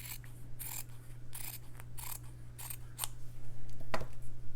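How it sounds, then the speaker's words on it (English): Scissors snip through the pinked edge of a fabric strip in a run of crisp, close cuts spaced roughly every half second, over a steady low hum. "So I'm going to cut off that pinked edge"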